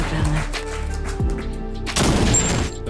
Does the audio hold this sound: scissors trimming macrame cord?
no